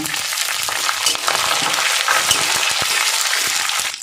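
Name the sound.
ginger, garlic and onion petals frying in oil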